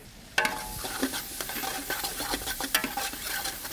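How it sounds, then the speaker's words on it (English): Herbs cook in oil for a from-scratch tomato sauce while being stirred, giving a soft, steady sizzle broken by light scraping and clicking of the utensil against the pan. "get the aromatic scent out of them by cooking them a little bit in the oil"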